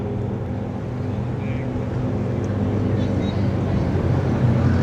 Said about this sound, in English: That's a good looking boat.